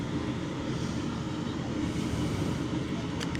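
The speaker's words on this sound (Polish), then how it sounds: "a ja jestem w pociągu" Inside a moving passenger train, a steady low rumble of wheels and cabin noise runs evenly throughout at moderate level, with a faint tick near the end.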